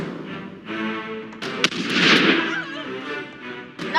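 Musket volleys in Totally Accurate Battle Simulator, a dense crackling barrage of rapid pops and booms that swells in the middle, loud and continuous, with a voice briefly audible.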